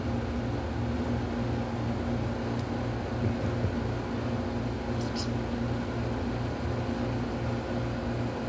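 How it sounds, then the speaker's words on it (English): A steady droning hum of an air conditioner runs at moderate loudness throughout, with faint whispery voices underneath. "Air conditioner is so loud."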